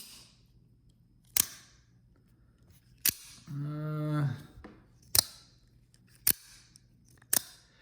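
A freshly cleaned and lightly lubricated Microtech knife firing its blade, five sharp crisp snaps spaced a second or two apart, close and loud against quiet, with a brief hummed voice between two of them.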